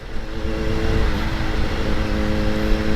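A close supercharged Kawasaki ZH2 motorcycle engine revs hard and holds a loud, steady drone as the bike accelerates.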